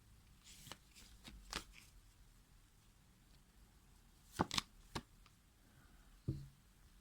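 Tarot cards are handled and shuffled quietly, with a few soft, scattered flicks and riffles: brief snaps early, a tighter pair midway, and a last one near the end, faint against a hushed room.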